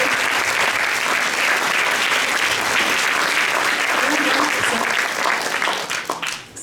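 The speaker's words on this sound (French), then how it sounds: "On peut les applaudir" An audience at a feminist gathering gives the translators sustained, dense applause that stays loud for several seconds before tapering off at the end.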